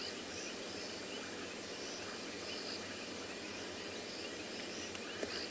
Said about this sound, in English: listen to the sounds of the frogs and the fiery neck nightjar going in the background